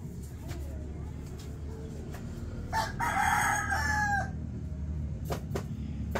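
A Rhode Island Red rooster crows once at moderate distance over a steady background rumble, with scattered clucks and clicks around it.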